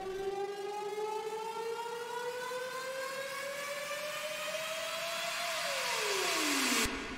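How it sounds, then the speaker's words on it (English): A synthetic riser sweeps steadily upward in pitch over a hiss of noise for several seconds, then bends down and cuts off abruptly. "I just snagged some quick riser samples."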